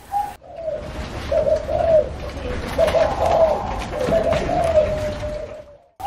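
Repeated soft, rhythmic zebra dove cooing close by, with steady background hum and faint chatter, continuing for several seconds.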